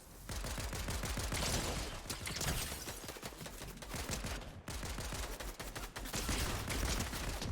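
Rapid bursts of gunfire in Fortnite, including shotgun shots, crackle in dense clusters through a close-range fight, loud and continuous with brief pauses, no talking.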